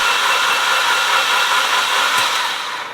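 A Harley-Davidson Evolution (Evo) engine cranks over on the starter with the spark plugs removed, giving a steady, loud whirring drone with no firing, close up and without talk.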